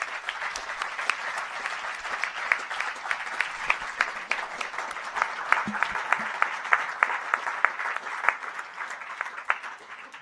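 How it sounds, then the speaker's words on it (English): Warm, sustained applause from a debate audience at a degrowth and climate change event, dense steady clapping with sharp individual claps standing out, fairly close and even throughout. "Give a warm applause for Federico Demaria."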